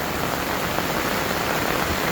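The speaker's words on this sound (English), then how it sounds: "It's raining about half as hard as it was." Steady, dense rain hisses down on a tarp over a winter campsite at night, a continuous wash of sound with no breaks and no voices.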